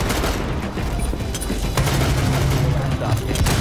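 Grenade blasts and gunfire in Rainbow Six Siege rumble loudly and continuously through a chaotic firefight, with players talking excitedly over the noise.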